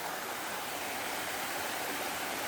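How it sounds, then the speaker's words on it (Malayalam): A small artificial waterfall at Poomala dam pours in a steady, dense rush of falling water, close and continuous with no voices. "ഇതാണ് നമ്മളെ ചെറിയ വെള്ളച്ചാട്ടം."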